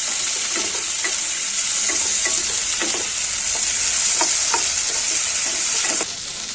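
Potatoes and tomato frying in a pan for a spicy curry, a steady loud sizzle running throughout with scattered clicks of stirring, dropping slightly quieter near the end; no talking.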